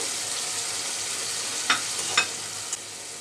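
Fish frying in a spiced paste in a pan makes a steady close sizzle. A few brief scrapes of stirring rise above it near the end, and no one speaks.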